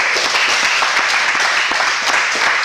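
Steady applause from a crowd at a karate belt grading exam, dense and even clapping filling the whole moment without a break.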